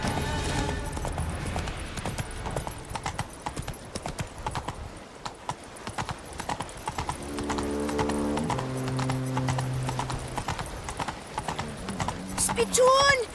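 Galloping horse in Witcher 3, its hoofbeats clattering fast and steady throughout, loud and close, mixed with game music and tonal notes, while voices talk over the ride.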